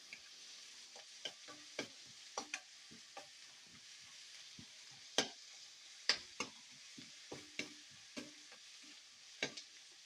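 Spring onions and green chilies frying in a pan for gobi rice, a steady soft sizzle broken by frequent stirring scrapes and clicks, close and with no talk.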